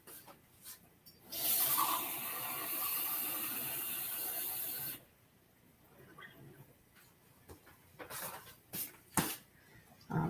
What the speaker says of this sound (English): Okay, pouring in water.